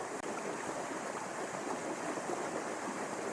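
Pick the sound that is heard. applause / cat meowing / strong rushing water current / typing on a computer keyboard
strong rushing water current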